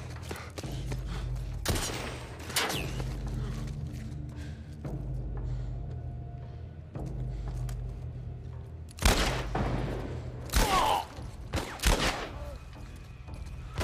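Gunfire in the video game The Last of Us Part 1 on Grounded difficulty, scattered loud shots and bursts over low rumbling game ambience, close, with a few sharp clusters near the end.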